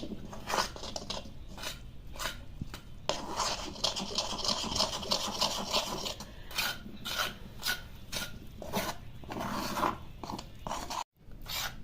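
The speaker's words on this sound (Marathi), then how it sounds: "त्यात बेता बेताने पाणी घालायचं आणि हलवून घ्यायचे एक युनिफॉर्म बॅटर करायचे" Gram flour batter stirred in a bowl as water is added bit by bit for a chilla or besan pancake, a steady rasping scrape of the spoon against the bowl with rhythmic strokes, close and continuous, no talking.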